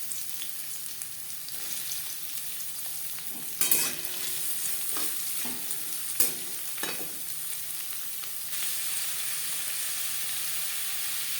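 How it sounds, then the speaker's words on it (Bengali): Chopped onion dropped into hot mustard oil, frying with a loud continuous sizzle and hiss, broken by a few stirring scrapes, close and steady throughout with no voices. "3 চামচ সরষের তেল গরম করে নিয়েছি, দিয়ে দিলাম পেঁয়াজ কুচি"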